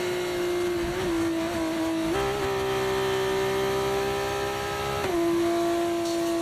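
Racing car engines at the start of a video game race, a steady loud droning whine with pitch climbing and shifting as cars accelerate, gears changing around two and five seconds, no talk over it.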